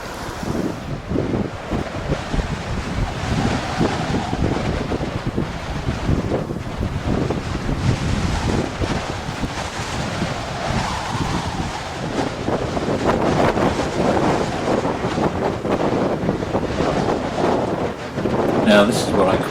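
Strong wind buffeting the microphone at the Glacier Grey campsite in Torres del Paine, a loud continuous roar with gusts that swell toward the end.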